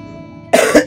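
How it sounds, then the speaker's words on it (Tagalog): A person coughs hard several times in quick succession after a quiet stretch, close and loud, with a throat-clearing quality to the bursts. "panay ang ubo ko"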